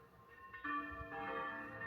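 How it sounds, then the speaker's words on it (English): Church bells ring with sustained overlapping metallic tones, fairly quiet and distant, with no talking over them. "Can you hear those bells?"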